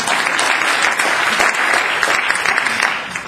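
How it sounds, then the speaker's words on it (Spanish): An audience at a professional development seminar in Spain applauds steadily and fairly loudly for about three seconds, a dense wash of clapping hands with no talking over it. "Un aplauso para ella,"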